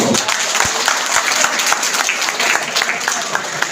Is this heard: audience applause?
yes